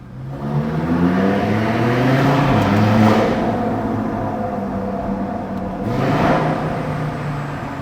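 A car's engine and exhaust drone close by while driving, rising in pitch as it revs, easing off, then climbing again, with no voices over it.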